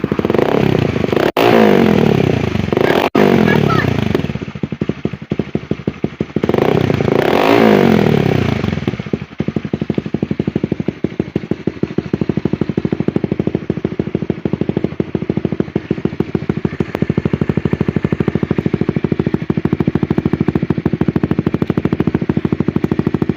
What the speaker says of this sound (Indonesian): Nah, kita coba ini tanpa DB killer. Ah, Suaranya seperti apa?